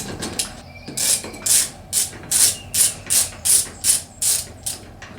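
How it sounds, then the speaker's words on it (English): A stubby socket wrench with a hex socket ratchets a brake caliper bolt loose on an aircraft wheel, giving about nine evenly spaced bursts of close, sharp clicking with no talk. "Grab our trusty stubby socket wrench, and I've got a hex socket on this side. Lefty loosey."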